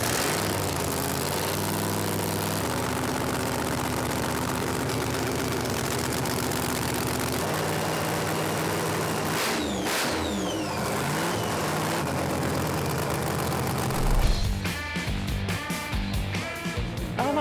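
Drag race car engine at a winter national drag race, running at a loud, steady, rough idle close by before being revved hard near the end.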